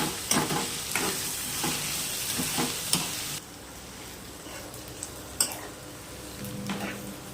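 Onions, mustard seeds and cumin crackle and sizzle in hot oil in a kadai, broken by several clinking, scraping strokes of a stirring spoon against the pan; close and continuous, with no voices.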